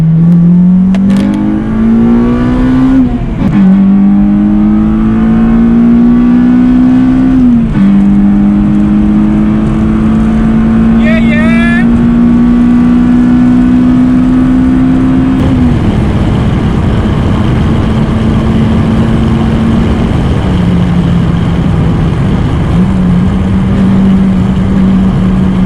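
Honda Civic EP3 with an M2 Performance back box exhaust, engine climbing through gears in several long pulls with a rising drone, shifting between them, then settling to a steadier cruise, loud and close.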